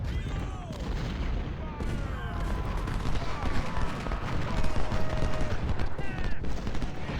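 Artillery fire in the Ultimate General Civil War game plays as a continuous cannonade of overlapping booms and crackling volleys. It keeps up steadily from start to finish.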